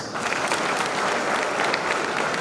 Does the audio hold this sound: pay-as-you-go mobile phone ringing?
no